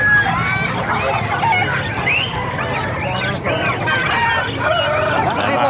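Several gamecocks crow over a noisy, crowded market scene in Calumpit with chatter and other fowl, including turkeys and Pekin ducks, calling, the crows overlapping throughout.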